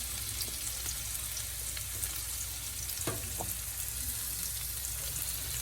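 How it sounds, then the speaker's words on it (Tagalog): Garlic added to hot, splattering cooking oil in a home kitchen gives a steady close crackling sizzle with a few sharper pops and spits, no voices. "Medyo ayan ang puro talisik ng mantika. Lagyan na natin tong bawang."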